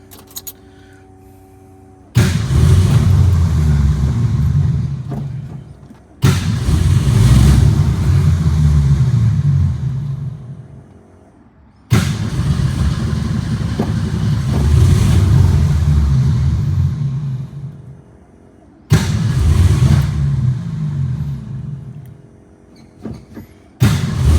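A 1962 Ford Falcon with an electric fuel pump problem cranks and fires up several times, rumbling loudly for a few seconds each time before dying back to quiet.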